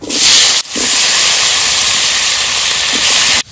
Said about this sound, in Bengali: দুটো আলু নিয়েছে, ভেজে নেব।